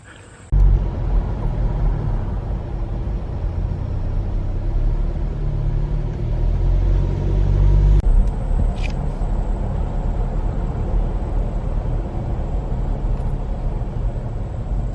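A truck rolls along the Cades Cove loop road in the Great Smoky Mountains, its low engine and road rumble steady and close from inside the cab, with no talk.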